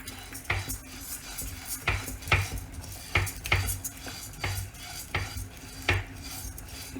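Dry kuthari rice grains rattle and scrape as they roast in a metal pan, stirred in repeated strokes with sharp clinks of a utensil, close by and fairly quiet.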